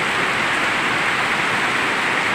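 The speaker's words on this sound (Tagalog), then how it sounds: "ang lakas ng ulan." Heavy rain pours outside in a steady, dense hiss with no breaks, even and loud throughout, with no voices.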